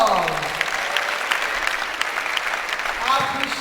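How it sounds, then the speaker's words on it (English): An audience at a university orientation programme for fresh students applauds the speakers, steady clapping from a crowded hall holding at a moderate level with a few voices blended in. "I want you to give all the speakers a round of applause"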